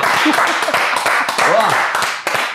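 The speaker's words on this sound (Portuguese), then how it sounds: "Vamos finalizar com aquele aplauso gostoso?" A studio audience applauds at the close of a Brazilian comedy talk show segment, a dense, steady wash of clapping lasting throughout, with voices and a laugh cutting in over it.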